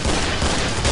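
Rapid automatic gunfire from the zombie shooter video game Killing Floor fills the whole second as a dense, steady, loud volley of shots with no break.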